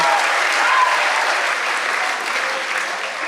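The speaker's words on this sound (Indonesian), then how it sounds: "Tepuk tangan buat para mahasiswa baru kita." Loud, sustained applause from a large audience greeting new university students at an academic-year opening service, a dense steady roar of clapping that holds for the whole stretch.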